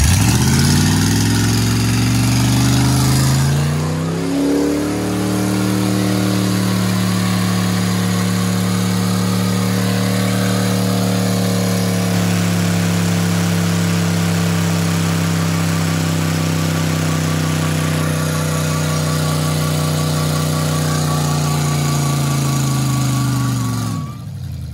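A Ford F-150 pickup truck engine revs up and holds high during a burnout, a loud sustained roar that builds from an idle over the first few seconds, then drops back near the end.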